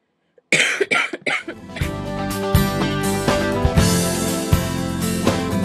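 A burst of several harsh coughs in quick succession, then a sustained droning background continues with no talking.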